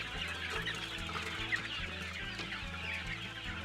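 Bulik gamefowl chickens cluck softly and repeatedly at close range outdoors, with a faint rhythmic mechanical hum underneath.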